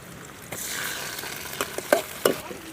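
Chopped onion frying in oil in a pot for a Tamil aloe vera curry, giving a soft steady sizzle with a few sharper clinks of stirring near the end.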